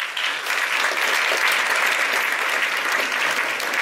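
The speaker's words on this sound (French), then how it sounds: "On vous demande de les applaudir." Dense, steady audience applause fills a cinema hall at a French short-film festival screening, a loud continuous wash of clapping sustained for about four seconds with no voices over it.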